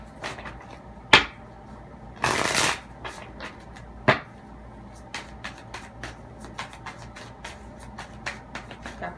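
Tarot cards are shuffled by hand in a quiet room, a burst of riffling followed by scattered light taps and card clicks at an irregular pace, close and fairly soft.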